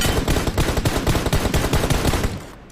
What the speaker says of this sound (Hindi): यहाँ बगल पे कोई और भी गोली चला रहा था गाइस